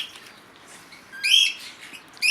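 Pet cockatiels give a few sharp squawking calls at close range, with bursts near the middle and again at the end over quiet background rustle.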